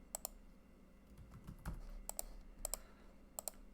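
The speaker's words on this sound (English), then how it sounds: "you start typing it, you click on the drop down" A computer keyboard is typed on in scattered short bursts of sharp clicks, close and fairly quiet, while entering a drug allergy in medical software.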